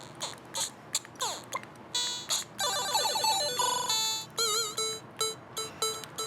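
A Pocket Opera Arcade step sequencer plays a run of bright electronic bleeps, chirps and warbling tones, short and rhythmic, one sound after another over faint background hiss.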